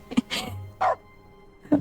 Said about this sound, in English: Now whenever we click, it will bark.